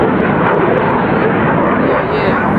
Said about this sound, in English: they always having an air show right here at the area airport.